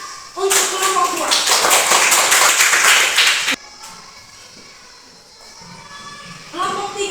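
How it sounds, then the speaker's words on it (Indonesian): A classroom of students bursts into loud, dense clapping for a student group. The applause lasts about three seconds, then cuts off abruptly to quieter room noise, shuffling and a teacher's voice. "Tepuk tangan untuk kelompok 2"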